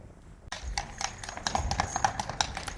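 A horse pulling a carriage clip-clops along a street in central Krakow at Christmas time, a run of crisp hoof strikes in a steady walking rhythm starting abruptly and continuing close by.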